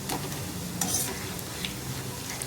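Omapodi dough, a Tamil Diwali snack, fries in hot oil with a dense, constant, close-up sizzle and crackle that holds steady throughout, with no voices.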